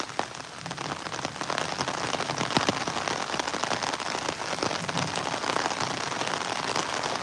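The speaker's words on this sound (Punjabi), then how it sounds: "ਮੀਂਹ ਹਲੇ ਵੀ ਨਹੀਂ ਘਟਦਾ ਜੀ ਹੁਣ ਸਾਨੂੰ ਕਾ ਹੋਰ ਵੱਧ ਗਿਆ ਆ" Heavy rain pours steadily and densely, a continuous close hiss of drops hitting surfaces with no voices, holding even from start to finish.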